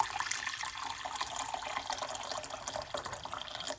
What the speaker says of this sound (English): we're going to pour some hot water